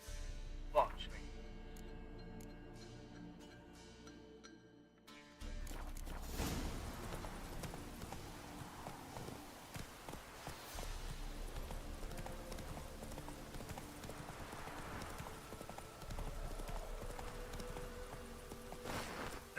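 Hooves of Roach, the horse in the video game The Witcher 3: Wild Hunt, clip-clop in a steady rhythmic gait, starting after a brief quieter stretch and continuing close and prominent under occasional talk.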